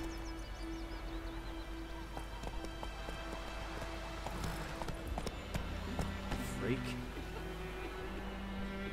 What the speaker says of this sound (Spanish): Voy a montar el caballo.